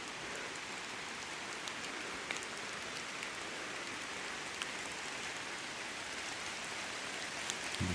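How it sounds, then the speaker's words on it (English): Steady rain falls outdoors in the woods near an old house and graves in Stringtown, Kentucky, a continuous even hiss of drops on the ground and leaves with no voices. "starting to rain pretty good now."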